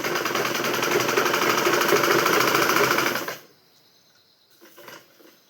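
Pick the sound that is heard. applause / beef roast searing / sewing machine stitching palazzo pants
sewing machine stitching palazzo pants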